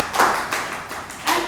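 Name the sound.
round of applause at meeting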